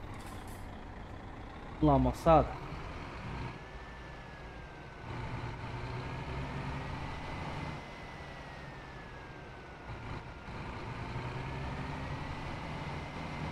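A bus idles and drives in Euro Truck Simulator 2 with a low steady engine rumble, a couple of sharp hiss-like bursts early on and a faint whine, while someone talks over it.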